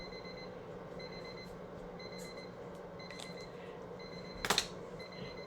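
A kitchen timer alarm beeps in short regular bursts, repeating roughly every second at a moderate level over room noise, with a sharp clatter partway through.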